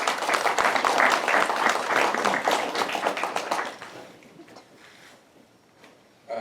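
Audience applause welcomes poet Jeffrey Harrison at a reading, a dense wash of many hands clapping for about four seconds, then fading to scattered claps and quiet room tone.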